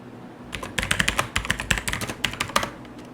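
Code is typed on a computer keyboard in a steady flurry of close, crisp key clicks lasting a few seconds, with short uneven pauses between bursts and no voices.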